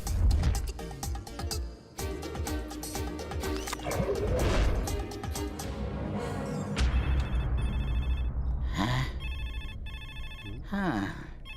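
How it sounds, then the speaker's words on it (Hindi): A telephone rings with repeated electronic trilling bursts through the latter half, following a busy stretch of crashes and commotion from a Hindi film scene, with a short voice cutting in over the ringing. "इन्हें तो फोन भी सुनाई नहीं दे रहा है"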